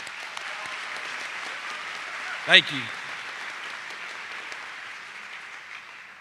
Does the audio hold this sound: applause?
yes